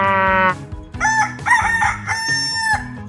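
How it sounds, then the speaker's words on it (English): A rooster crows loudly and close, a full cock-a-doodle-doo call with strained harmonic tones, heard alone with no talking. "This is a rooster."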